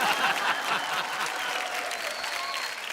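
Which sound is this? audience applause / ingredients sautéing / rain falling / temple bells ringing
audience applause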